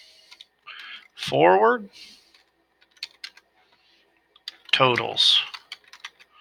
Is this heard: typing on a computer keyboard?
yes